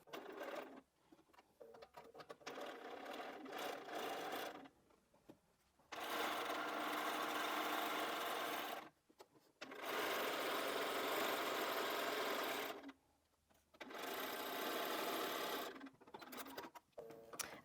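A sewing machine fitted with a quarter-inch guide runs a long quilt seam for a rail fence quilt in three sustained, even bursts separated by short pauses, close and clear with no talk.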